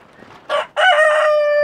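A rooster crows loudly and close by, a long ringing cock-a-doodle-doo following a short clucking burst from a farmyard flock of chickens.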